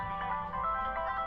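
A phone rings in the visual novel game Doki Doki Afterimage with a soft, steady electronic ringtone of repeating tonal chimes. It is quiet and heard alone, with no voices.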